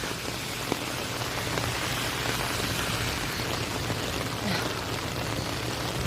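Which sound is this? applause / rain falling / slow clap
rain falling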